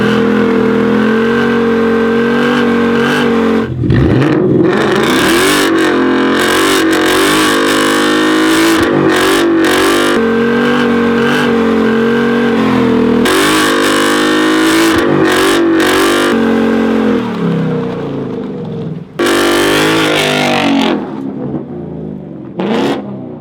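A 2018 Ford Mustang GT V8 with its muffler deleted, loud and close, revving hard and accelerating in repeated surging bursts with sharp throttle blips and a brief lull near the end, no voices.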